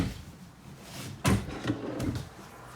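A deep kitchen drawer in a 2021 Forest River Rockwood Ultra Lite 2883WS fifth-wheel RV slides open, a soft rumble ending in a dull thump, followed by lighter knocks and rattles, close and fairly quiet.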